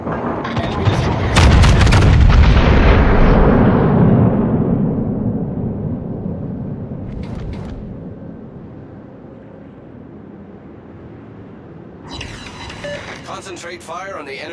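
Warship main guns firing at an enemy ship in the naval video game World of Warships, a heavy booming salvo up front that rolls and fades, then a sharp later shot, with a game voice speaking over it.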